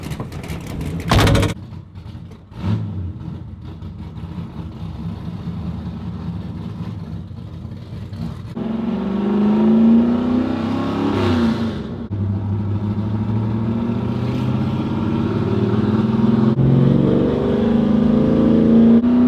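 A 1968 Camaro drift car engine starts with a sharp bark, idles roughly, then revs hard with rising and falling pitch, loud and close, settling into a heavy rumbling idle between blips.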